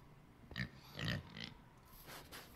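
Pigs on a farm in a farming video game give a few short, soft grunts and snorts in quick succession.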